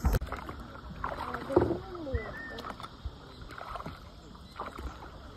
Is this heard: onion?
no